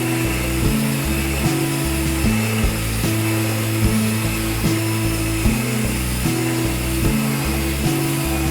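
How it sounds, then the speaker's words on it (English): A drill bores through a subway tile backsplash with a rocking motion, making a loud, continuous grinding whine that pulses in a regular, ratchet-like rhythm throughout. "I like to just do a little rocking motion as I'm drilling."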